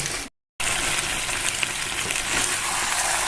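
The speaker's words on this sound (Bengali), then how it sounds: "এভাবে আপনারা মাংসটাকে কিন্তু আর ভালো করে কষিয়ে নেবেন" Mutton stir-fried in a pan, a dense continuous sizzle with faint stirring scrapes, loud and close after a brief silent gap at the start.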